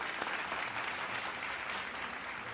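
Faint, steady applause from an audience at an interview with a Kathak dancer, a continuous wash of clapping lasting a couple of seconds with no voice over it.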